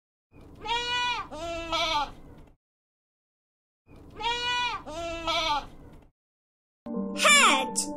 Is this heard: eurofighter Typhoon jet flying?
no